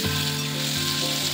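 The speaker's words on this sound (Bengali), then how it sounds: "আলুটা দিয়ে তার মধ্যে নুন হলুদ দিয়ে একটু ভেজে নেবে।" Potatoes sizzle steadily in hot refined white oil in a kadai with salt and turmeric, a close, even frying hiss with soft stirring and no voices.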